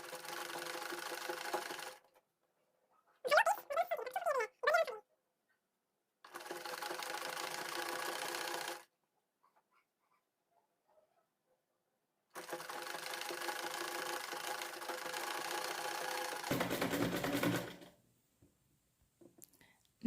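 A sewing machine stitches polar fleece children's pajamas, running in several loud, steady bursts separated by pauses and short clicking handling sounds.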